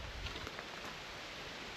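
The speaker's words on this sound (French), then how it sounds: "il commence à pleuvoir assez fort" Steady rain falls fairly hard on a forest, a dense even hiss of drops with a few faint pattering ticks, no voices.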